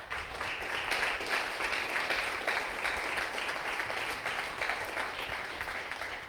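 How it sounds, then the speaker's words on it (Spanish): Congregation in a church service clapping hard and continuously, a dense, even patter of many hands sustained throughout without speech. "Si le va a dar palmas, déselas fuerte."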